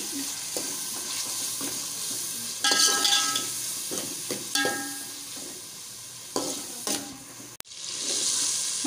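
Masala of tomatoes, chaat masala, turmeric, salt and crushed red chili is stir-fried, giving a close, steady sizzle with recurring spatula scrapes and clanks against the pan, and a brief louder hiss near the end.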